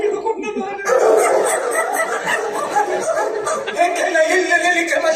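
During a Tulu stage comedy, a voice imitates a dog barking with yappy, bark-like bursts mixed into lively chatter and other talking.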